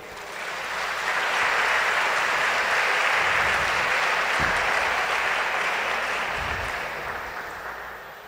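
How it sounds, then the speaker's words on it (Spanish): A church congregation applauds together during a service, the clapping swelling up, holding as a dense even roar, then tapering off toward the end. "Dele un aplauso al Señor."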